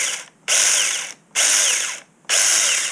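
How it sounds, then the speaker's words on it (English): A Feytory handheld chainsaw whirs in three loud, evenly spaced bursts, each starting abruptly and tapering off as the chain spins down, with brief quiet gaps between and no talking. "As soon as you release the trigger, the chain keeps spinning."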